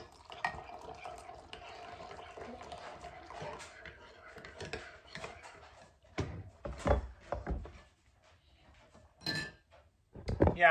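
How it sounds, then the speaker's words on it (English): A spoon stirs coffee and squeezed caramel in a cup, making light clinks and liquid swirls close by, first soft and then in sharper clattering bursts near the end. "now we're gonna put our coffee in there and we're gonna stir it up"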